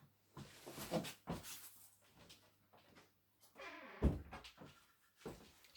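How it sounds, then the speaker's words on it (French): A door closes indoors with a sharp thud near the end, following scattered shuffling, soft handling sounds and a brief cat-like cry; no one talks. "J'ai fermé ma porte"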